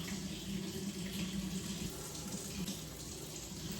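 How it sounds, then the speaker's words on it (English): Water runs steadily from a tap into a sink during home cooking, a continuous hiss and splash at moderate level with no voices. "Why is the water on?"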